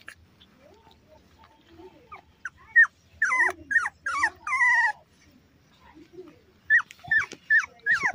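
A puppy whimpers in close, high-pitched whines, several in a row, then a pause and another burst of short yelping cries against a quiet background.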